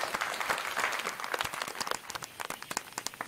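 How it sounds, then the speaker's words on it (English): An audience at a live assembly session applauds, a dense wash of many hands clapping at moderate volume, steady and then thinning slightly toward the end. "claps."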